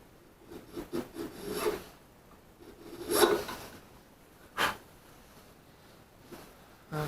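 Rasping strokes of a file cutting a notch into an old wooden piano key from a 130-year-old piano, coming in short irregular bursts with pauses between, close and fairly quiet.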